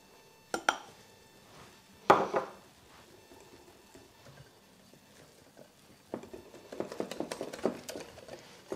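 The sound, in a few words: whisking batter with flour in a bowl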